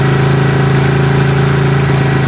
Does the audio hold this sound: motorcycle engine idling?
yes